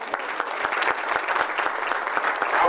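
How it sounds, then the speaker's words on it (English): A lecture audience gives a poet another big round of applause: many hands clapping at once in a loud, lively burst, with individual sharp claps standing out through the crowd sound. "how about another big round of applause"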